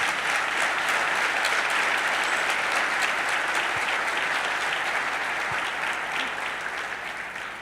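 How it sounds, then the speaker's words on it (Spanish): Sustained applause from a large church congregation, dense steady clapping that holds loud throughout and eases slightly toward the end. "denle un aplauso al Señor"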